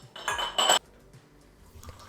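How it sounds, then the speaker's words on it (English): Glass jars and their lids clink and rattle as they are set into a large heat-proof bowl, a close, bright burst of clattering followed by a few faint knocks. "add the jars and lids to a large heat-proof bowl."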